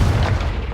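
A Confringo blasting spell from Hogwarts Legacy bursts as a loud, sustained booming explosion with a dense low rumble that fills the whole moment, with no talking over it.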